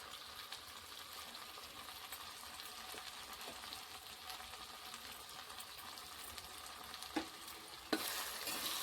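Okra pieces cooking in a pan for bendakaya dappalam, a faint, steady frying hiss with occasional light taps of a spoon and a louder knock near the end.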